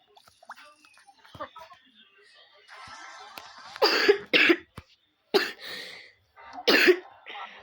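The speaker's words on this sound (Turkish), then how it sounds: "Çok öksürüyorum ya." Several harsh, close coughs come in bursts, preceded by quieter breathy sounds and faint shuffling.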